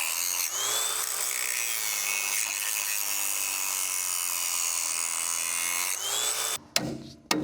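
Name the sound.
cutting off old pipe fittings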